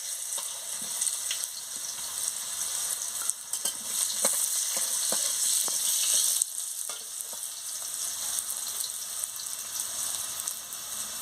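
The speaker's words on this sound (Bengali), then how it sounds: "এবার আমি আলুটা আর গাজরটা একসঙ্গে ভেজে নিচ্ছি" Potato and carrot pieces frying together in a pan, a steady bright sizzle with occasional stirring scrapes and ticks, close and continuous with no voices.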